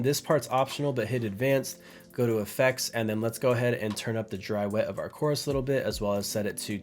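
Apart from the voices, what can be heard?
No everyday noise stands out behind the speech.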